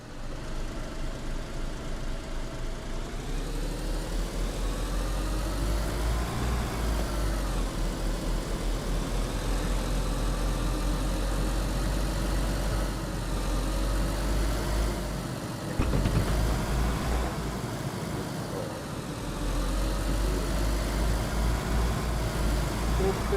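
A car engine runs in the video game DayZ on the Namalsk map, a steady mid-pitched rumble that holds for the whole stretch with small shifts in revs, and voices come and go over it.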